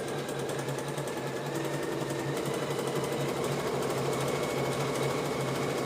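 An embroidery machine stitching fabric runs in a steady, loud, continuous mechanical rattle with a fast regular pulse, with no one talking.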